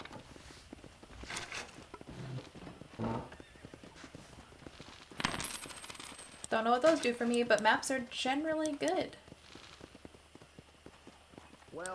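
Red Dead Redemption game audio with a person talking, brief hoof clip-clops, then a horse whinnies loudly over faint background music.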